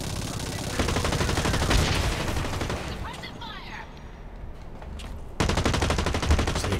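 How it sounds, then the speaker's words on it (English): Gunshots ring out in the Blacklight Retribution video game as rapid bursts of automatic fire, loud and sustained. They pause briefly, then a fresh volley erupts near the end. "Take a couple pot shots at him."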